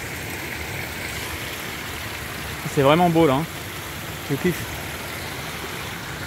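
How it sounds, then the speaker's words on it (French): A waterfall gives a constant rushing roar in the background, steady and broad throughout, while someone speaks briefly over it. "Il y a une cascade."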